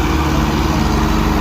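Tractor engine labouring as it climbs, a loud, steady, low throbbing drone heard close up with no pause.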